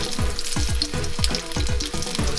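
Vegan fritter batter dropped into a lightly oiled pan, a loud close sizzle with a rhythmic series of about eight short bubbling pops repeating roughly every quarter second, no talking.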